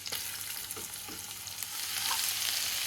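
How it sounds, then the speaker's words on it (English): Garlic, ginger and cumin frying in hot oil, a soft, steady crackling sizzle with small pops, growing a little louder toward the end. "There you go, sizzling away."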